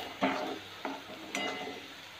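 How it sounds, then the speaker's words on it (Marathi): Garlic and golden onion sautéing in a pan for onion chutney, with a soft steady sizzle broken by three spatula stirs and scrapes. "आता आपण त्यामध्ये लसूण टाकून घेऊ। लसूण छान परतून घेऊया"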